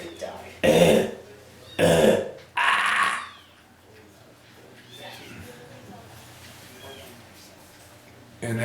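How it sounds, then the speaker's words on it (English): A dog with kennel cough gives three loud, harsh, honking coughs in quick succession, followed by quieter snuffling and faint background sounds. "That's kennel cough. And kennel cough sounds just like that."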